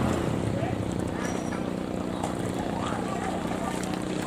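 Two-stroke racing motorbikes on a practice run produce a steady, buzzing engine drone with no break, fairly loud and continuous, while people talk over it.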